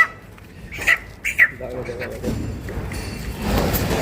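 A chicken in a warehouse, about to be slaughtered, gives a couple of short sharp squawks, followed by rustling and handling noise, with someone talking nearby.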